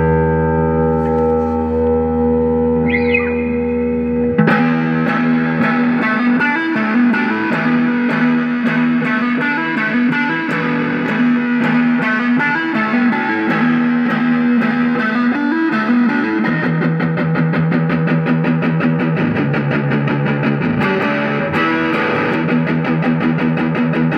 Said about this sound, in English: We're also going through a brand new Fender Deluxe Reverb amp, starting off on that neck pickup.